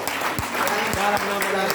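A church congregation claps during a Good Friday worship service, with steady, dense applause filling the hall while a voice speaks over it.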